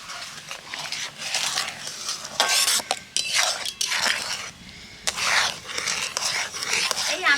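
A spatula scrapes and stirs thickened ripe mango pulp in a wok, making soft, irregular metallic scraping and sticky sloshing strokes that come in uneven bursts, fairly close, with no voices.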